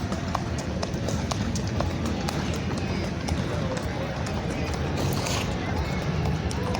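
Horse hooves clip-clop along pavement near NRG Park in Houston, a steady walking rhythm of sharp clicks over dense outdoor crowd and traffic noise with voices in the background.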